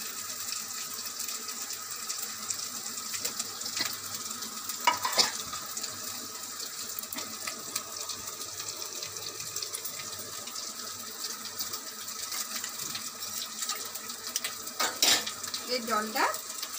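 Spice paste mixed with water sizzles in a pan while being stirred for aloo posto, a continuous soft frying hiss with a few scraping clinks of the utensil against the pan.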